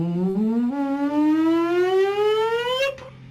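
A voice imitates a rising siren whoop, one continuous sliding tone sweeping steadily upward from low to high pitch over about three seconds, loud and close, then cutting off.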